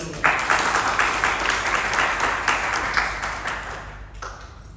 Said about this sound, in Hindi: बजाओ ताली एक बार जोर।